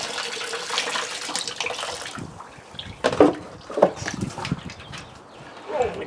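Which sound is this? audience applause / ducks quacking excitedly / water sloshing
water sloshing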